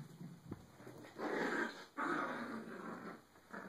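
Chihuahuas growling during a game of fetch, a few low rumbling bursts with brief pauses between them, close and fairly loud, with a faint whimper in the mix.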